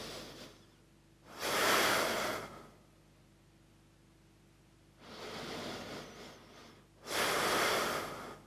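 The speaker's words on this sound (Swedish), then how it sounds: "Och andas långa djupa andetag." Three slow, deep breaths of yoga breathing are heard close up in a quiet room, each a soft airy rush lasting a second or two, separated by longer silent pauses, with no talk.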